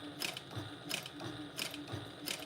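A thumper-style sewing machine stitches leather backed with foam, its needle striking in a steady, quick mechanical rhythm of clicks and clunks. The sound is moderately close, with no talking.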